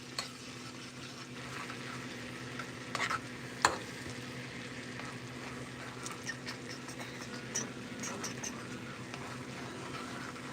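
Garlic and butter fry in a pan with a soft, steady sizzle, broken by a few brief clatters and taps from stirring.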